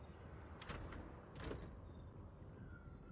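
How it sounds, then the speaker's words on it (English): A door opening in the ZZZ game, heard as two soft sliding scrapes with a faint thump, quiet against low background ambience. "Before you can start to hide, the door opens."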